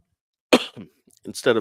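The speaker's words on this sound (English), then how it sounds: "I apologize for coughing into the mic there and not muting it." A sharp cough close to the microphone, followed by a couple of smaller throat-clearing coughs.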